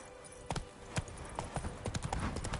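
Roach the horse trotting in The Witcher 3, a series of sharp hoof clip-clops at an uneven pace, fairly close, over a low bed of ambient sound.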